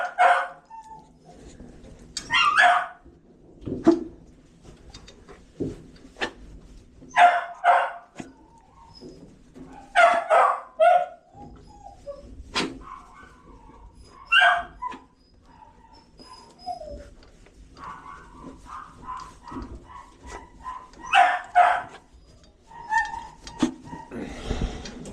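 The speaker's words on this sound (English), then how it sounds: "You're barking about nothing." A wiener dog barks in short, irregular bursts during grooming, mixed with a few whimpers, fairly close, with quiet gaps between the outbursts.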